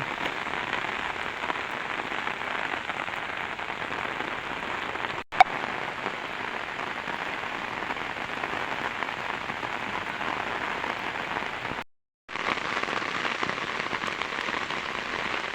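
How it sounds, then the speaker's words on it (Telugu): Heavy rain pours steadily onto surfaces in the village of Kadthal as a dense, loud, unbroken hiss. A sharp click cuts in briefly near the middle, and the sound drops out for a moment late on before resuming. "వర్షం ఇప్పుడు చాలా ఎక్కువైంది వర్షం"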